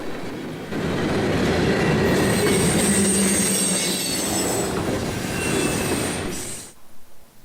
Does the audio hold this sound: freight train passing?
yes